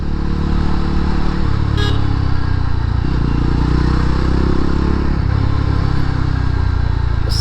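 A Yezdi Roadster motorcycle's engine heard while riding, a loud, continuous, close drone with rising and falling engine pitch and heavy wind rush, no speech.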